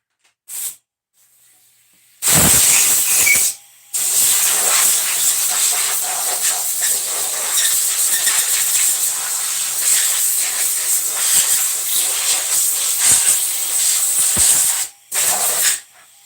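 Pressure washer rinsing an engine block makes a loud, close, continuous hissing spray that runs for over ten seconds, with a brief pause near the start and one near the end.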